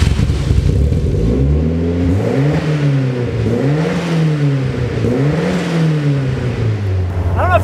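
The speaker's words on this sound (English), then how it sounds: "this is a 1985 Ford Sierra Cosworth rally car." A 1985 Ford Sierra Cosworth rally car engine revs up and down repeatedly, loud and close, with rising and falling pitch sweeps before settling into a steady idle-like drone.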